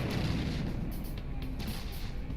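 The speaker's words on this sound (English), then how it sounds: "They're mostly firing HE at us, so that's good." Enemy high-explosive shells pound a ship in the naval combat game From the Depths, a dense, continuous rumble of overlapping blasts and crashes filling the whole stretch at steady loudness.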